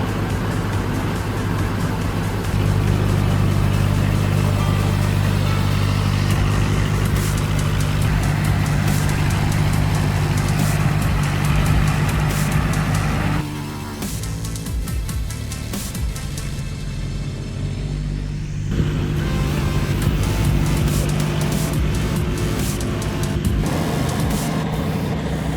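The diesel engine of an overloaded timber truck labours on extreme rough terrain, a loud steady drone with heavy low rumble that dips briefly midway and then strains on continuously with no voices.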